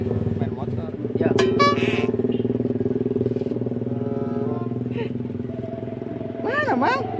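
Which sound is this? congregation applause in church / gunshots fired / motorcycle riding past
motorcycle riding past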